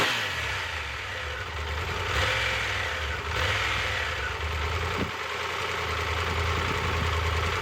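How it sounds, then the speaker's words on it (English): A Triumph Tiger 1200 GT motorcycle's inline engine idles steadily at low revs with a continuous mechanical rattle and hum, no voices. "Tiger sounds like nothing at low RPM, and you can hear more mechanical noises on the engine than the exhaust"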